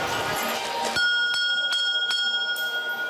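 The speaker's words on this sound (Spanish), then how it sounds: "El repicar de una campana anuncia el inicio del recorrido por 350 pesebres procedentes de 30 países." A church bell rings in several clear metallic strikes about a third of a second apart, each leaving a sustained ringing tone, with faint voices and room noise under the start, announcing the opening of a nativity scene exhibition.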